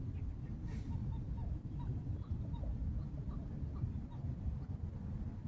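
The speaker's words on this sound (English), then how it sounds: "I didn't notice there was some ducks over here." Ducks near the water calling with faint, scattered quacks over a steady low outdoor rumble, distant and sparse throughout.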